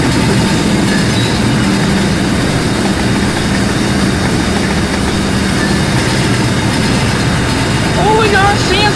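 A CSX freight train in Rolling Line rumbles past in a continuous, loud, steady roar of wagons and engine, with a voice heard near the end.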